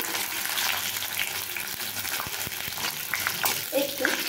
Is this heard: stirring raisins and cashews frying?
yes